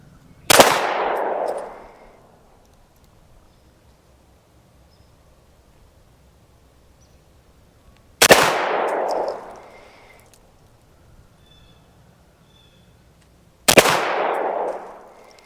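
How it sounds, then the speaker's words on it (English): Three CMMG Banshee pistol shots on a shooting range, each a sharp loud crack with a decaying outdoor tail, spaced several seconds apart in otherwise quiet surroundings. "I'm going to shoot the first 5 shots from the Banshee on this accuracy test, two-hand pistol style"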